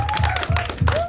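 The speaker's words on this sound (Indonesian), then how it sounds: "tepuk tangan buat Sinta Marino" A small audience at a film press conference applauds an actress, giving a few loose, close claps in uneven bursts with a faint ringing tone behind them.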